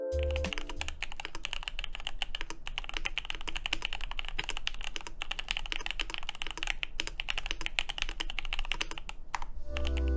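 Rapid, continuous typing on a KBD67 Lite plastic mechanical keyboard with light, clacky keystrokes and a thin plasticky sound, close and steady for several seconds, no voices.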